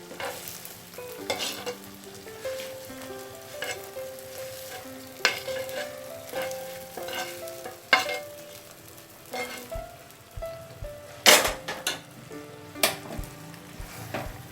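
Paneer tikka pieces going one by one into a pan of sizzling masala, with steady frying hiss, stirring and scraping, and a few sharp clinks of a utensil against the pan; no talking.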